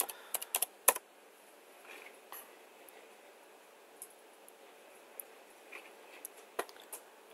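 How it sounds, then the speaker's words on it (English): A computer keyboard is used to type an IP address into a web browser. Faint, scattered keystrokes come in a quick cluster at first, then occasional isolated taps follow in a quiet room. "type in the IP address of the controller."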